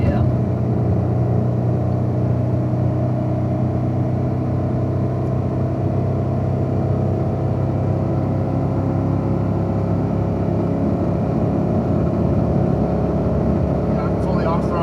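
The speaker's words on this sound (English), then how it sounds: "I'm fully off throttle in second gear and it's still accelerating." Car coasting down a steep 16% grade in second gear with the throttle fully closed, its engine a steady low drone and rumble throughout, with people talking over it.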